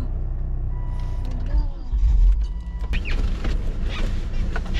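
Someone gets into a car and it moves off in the mountains of Dagestan, with a low engine rumble, a few mechanical clunks and whirs, and a heavier thud partway through.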